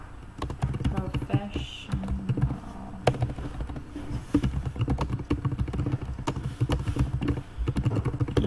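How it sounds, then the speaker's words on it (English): Rapid, uneven clicking of computer keyboard typing continues close by throughout, while a person speaks briefly over it. "You back to typing everything out?"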